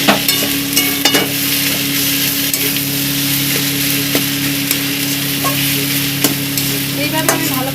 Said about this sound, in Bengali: ভালো করে নাড়িয়ে নেবো এবারে।